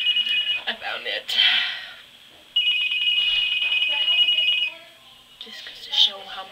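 A mobile phone rings in bursts of a high electronic ringtone, moderately close, while a person talks over and between the rings.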